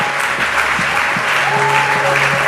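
A church congregation at a Sunday service claps steadily in dense, continuous applause, loud and close, with faint voices and a sustained tone mixed underneath.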